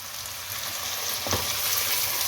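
Chicken keema frying with browned onions and spices in a pan, a steady close sizzle throughout with a brief stir or clatter midway, no voices.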